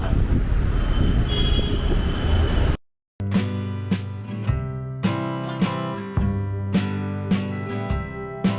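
Mumbai metro train interior: steady rumbling rail noise and a broad wash of sound, then a brief silence followed by repeated rhythmic clunks and tonal hum as the carriage rolls along.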